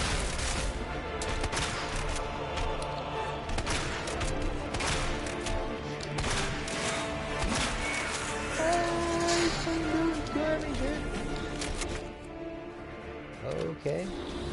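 Gunfire in Resident Evil 2 Remake comes as repeated sharp shots and impacts in a busy, crowded mix with game effects, loud and close, while a voice talks over it.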